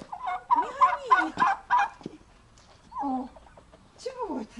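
Farmyard turkeys gobbling in several rapid, warbling bursts, close and fairly loud, with pauses between calls and a couple of shorter gobbles later, alongside some nearby talk.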